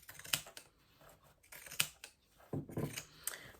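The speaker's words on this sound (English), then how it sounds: "with my pinking shears because I forgot to bring my normal scissors down" Pinking shears snip through fabric in a few close, crisp crunching cuts spaced about a second apart, with soft handling noise between them.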